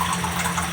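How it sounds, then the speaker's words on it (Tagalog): Water is poured from a glass into a pot of tilapia paksiw with soy sauce, a short, close, steady splashing trickle with no voices. "Tapos lalagyan natin ng konting tubig yan kaili para"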